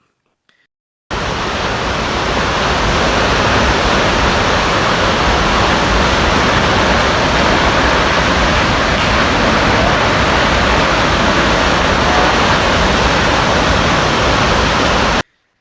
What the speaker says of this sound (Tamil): அருவியின் ஆர்ப்பரிக்கும் சத்தம் காடு முழுவதும் எதிரொலிக்கின்றது